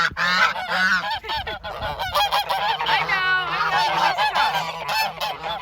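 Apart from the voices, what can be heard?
ducks calling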